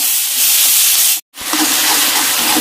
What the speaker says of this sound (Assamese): এতিয়া কচুকণ ভাজি আছোঁ